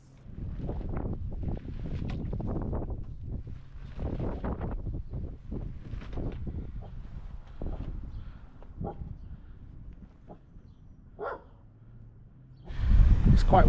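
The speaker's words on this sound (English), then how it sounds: "It's quite windy today." Wind gusting along a village street in Yarwell, North Northamptonshire, with steady low rumbling buffets against the microphone throughout and a louder, closer gust at the end; a voice talks intermittently over it.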